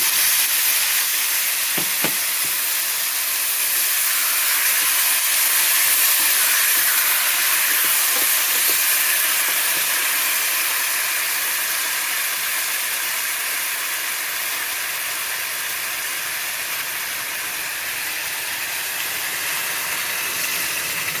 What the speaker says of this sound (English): I'm going to add my tomato sauce and let that cook for just a minute